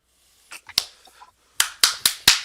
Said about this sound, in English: I got a clap or something.